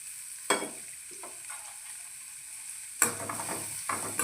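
Small onions drop into hot groundnut oil with a sudden loud sizzle, then crackle and are stirred, with a second burst of frying hiss a few seconds later, close and without speech.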